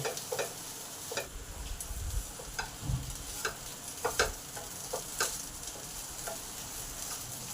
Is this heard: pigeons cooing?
no